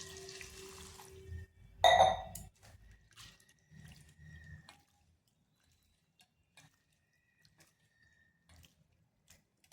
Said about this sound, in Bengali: চিড়াটাকে খুব ভালো করে 3 থেকে 4 বার ধুয়ে নিচ্ছি